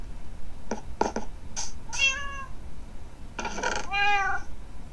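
Cats in Minecraft PE meow repeatedly: several short clipped meows, then longer drawn-out mews, loud and clear over a quiet background.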